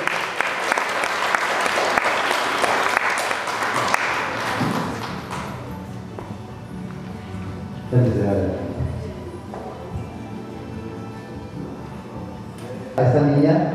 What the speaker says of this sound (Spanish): Ahí tenemos un fuerte y merecido aplauso a la modelo